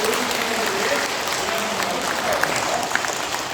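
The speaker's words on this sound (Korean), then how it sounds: "같이 서로를 위해서 박수 한번 치겠습니다." Dense, steady applause from a church congregation gathered for a parish's 25th anniversary, many hands clapping together at an even loudness for the whole stretch.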